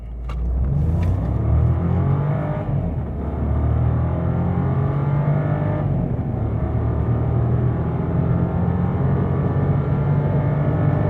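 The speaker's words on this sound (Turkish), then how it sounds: "Gördüğünüz gibi 10 saniyede otomobil sıfırdan 100'e çıkabiliyor." A 2018 Volkswagen Polo Highline in Sport mode accelerates hard at full throttle from a standstill, its engine droning loud and steady with rising rumble and a couple of brief shifts, heard from inside the car without talk.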